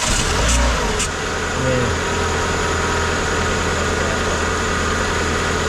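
A Cessna 182 aircraft engine runs at a steady, rumbling idle throughout, loud and close, with a brief spoken word near the start.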